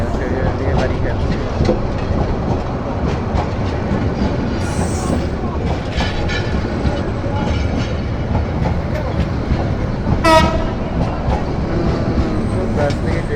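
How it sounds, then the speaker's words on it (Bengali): A train passes very close by, loud and continuous with rumbling wheels, clattering cars and a sharp wheel squeal, voices faintly underneath. "তো আমরা আজকে খুব কাছ থেকে ট্রেন দেখছি।"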